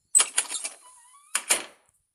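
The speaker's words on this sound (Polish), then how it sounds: "To jest tylko dźwięk otwierania drzwi" Car door opening in the game My Favourite Car, a few quick metallic latch clicks and rattles, a short pause, then two more close clacks before silence.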